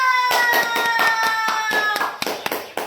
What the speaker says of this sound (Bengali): সবাই হাততালি দাও